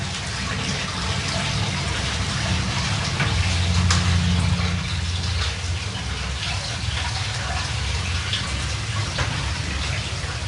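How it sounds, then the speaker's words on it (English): Hot water gushes steadily into a wooden wax-press tub at a traditional heathland apiary, a loud continuous pouring rush with a deeper swell partway through, no voices. "Hot water is added to reheat and rinse the contents."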